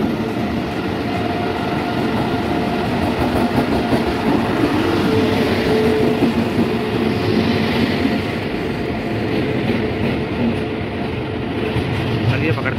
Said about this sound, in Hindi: 40 मिनट वेट करने के बाद मेरी ट्रेन चोरा चोरी एक्सप्रेस चोरी चोरा एक्सप्रेस